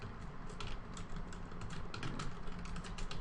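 Rapid typing on a computer keyboard, a steady stream of close, crisp key clicks with no voice, in a setting where a C# program is being written.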